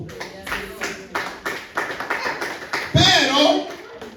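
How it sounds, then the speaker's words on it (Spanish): A church congregation claps in a steady rhythm, with evenly spaced close hand claps that continue under a loud voice cutting in near the end. "Denle un aplauso a Cristo."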